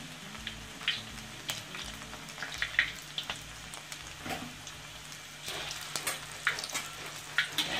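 Pork meatballs fry in hot oil with a steady close crackle and sizzle, broken by sharp pops and the occasional knock of a utensil turning them in the pan.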